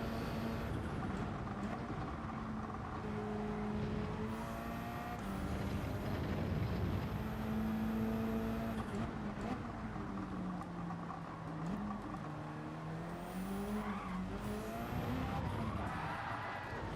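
Race car in Gran Turismo 7, engine droning and revving loud and continuous through shifting pitch, with tyre squeal and skidding sweeping in and out as the car slides through corners.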